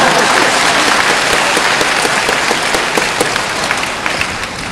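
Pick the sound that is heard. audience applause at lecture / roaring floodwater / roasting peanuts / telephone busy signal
audience applause at lecture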